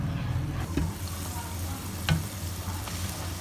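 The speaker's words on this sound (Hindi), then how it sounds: "दही और मसाला हमारे बड़े ही ज़बरदस्त से पक रहे हैं" Yogurt and spice masala cooking in a pan for a chicken korma, a quiet steady sizzle with a few sharp stirring knocks, close and without talk.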